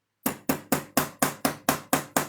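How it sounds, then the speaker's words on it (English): A nylon hammer strikes sheet metal in eight evenly spaced, sharp blows, each a bright knock that quickly rings off, close and clear with no talking. "this is a nylon hammer, you can make that metal move a little bit simply by just hitting it"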